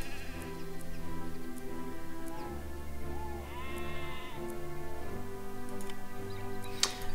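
Sheep bleat repeatedly in the video game Hero of the Kingdom, their calls rising over a steady ticking and a looping melodic game soundtrack, with no voices.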